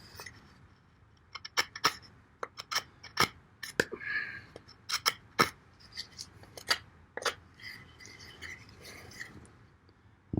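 The serrated edge of a Ruike M195 rescue knife saws into wood in a run of short, sharp rasping strokes, close and irregular, with brief pauses between bursts.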